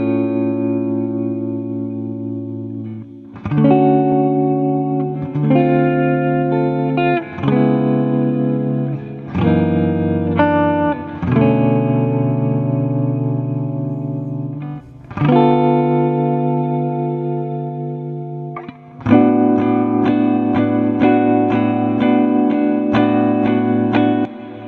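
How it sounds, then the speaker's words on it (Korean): Electric guitar through a natural-sounding overdrive with AmpliTube shimmer reverb, played alone as sustained rhythm chords with long, bright, washed-out hall-like tails blooming after each strum. "이 상태에서 쉬머 리버브를 추가해 보겠습니다."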